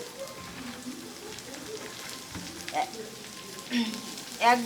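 Chopped cabbage hits a hot pan and sizzles steadily up close. The frying hiss stays soft and even, with a few brighter crackles and spatters near the end.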